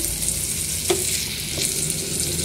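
Chopped tomato, salt and spices fry in a pan with a steady, close hiss and sizzle, plus a brief stirring scrape, and no voices.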